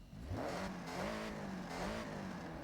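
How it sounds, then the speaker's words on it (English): Stock engine of a car in Forza Horizon 6 revving, a steady mid-pitched drone that rises and falls in two gentle swells, fairly faint and continuous with no talking. "what's the stock engine sound like?"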